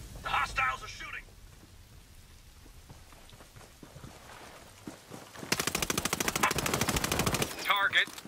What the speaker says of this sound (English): The hostiles are shooting.